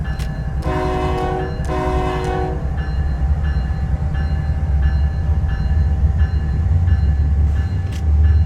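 A freight train on Cajon Pass between San Bernardino and Barstow in the video game Train Sim World 3 gives a loud, continuous low rumble, with a two-part horn blast near the start.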